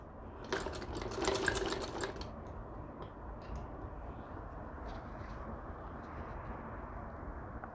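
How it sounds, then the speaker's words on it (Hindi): A sewing machine double-stitches the hem of a ladies' shirt, with a louder burst of rapid stitching early on before settling into a low, steady mechanical hum, quiet and close. "फिर से ये डबल स्टिचिंग कीजिएगा दामन में"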